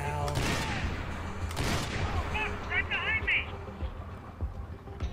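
Gunfire from the video game Max Payne 3, sharp broadband bursts early on amid game effects, with players talking over the action.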